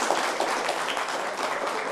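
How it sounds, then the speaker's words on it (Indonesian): Studio audience applauds for Idrus Marham on an Indonesian talk show, a steady dense wash of clapping that holds evenly for the whole stretch without pause. "Tepuk tangannya boleh buat Bang Idrus Farham"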